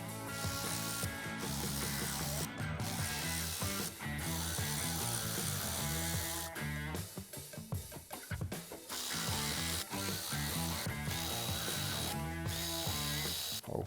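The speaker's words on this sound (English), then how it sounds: "Let's take off the 4 upper bolts," A ratchet clicks steadily as the upper half-inch timing cover bolts come off a 1971 Hemi Cuda 426 engine, with continuous rapid close-up ratcheting and a few brief pauses.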